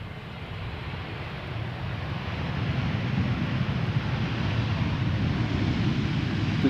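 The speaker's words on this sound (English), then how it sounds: "time for another 777-200 arriving from Las Vegas" Boeing 777-200 airliner arriving at Amsterdam Schiphol Airport, a steady broadband roar that slowly builds as the jet approaches, with wind noise on the microphone and no voices.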